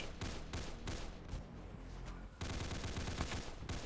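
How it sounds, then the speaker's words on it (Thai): Rapid bursts of Roblox gunfire rattle continuously, dense and loud, with volleys overlapping throughout. "ใครยิงปืนเราตามหาปืนเลย"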